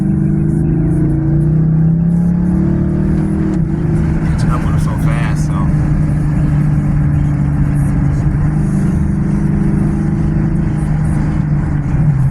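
A 392 Hemi car cruises on a highway, its engine and road noise forming a constant loud drone heard from inside the cabin, with someone talking over it throughout.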